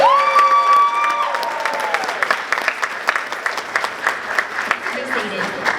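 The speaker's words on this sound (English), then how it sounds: "if you'll give them one more round of applause" Crowd applause at a senior night ceremony: a speaking voice fades out as clapping builds into a steady, fairly close round with scattered sharp claps and light cheering, thinning toward the end.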